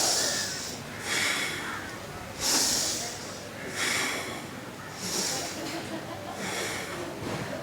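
Slow, deep breaths during a yoga class in Goa, each long airy inhale or exhale rising and fading in a steady rhythm, close and fairly quiet, with an instructor talking between them.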